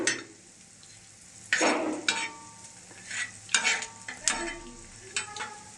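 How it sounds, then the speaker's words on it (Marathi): Grated coconut dry-roasting on a griddle, with intermittent scraping and stirring strokes from a spatula over a faint, steady sizzle, the strokes coming in irregular bursts. "हे इथं मी आधी खोबरं भाजून घेणार आहे"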